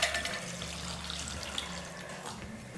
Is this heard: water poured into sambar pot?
yes